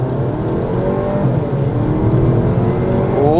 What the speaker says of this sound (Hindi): इसकी 0 to 60 हो जाए भाई ऑक्टेविया है, 0 to 80 करते हैं इस बार। स्पोर्ट्स मोड पे गाड़ी डल चुकी है।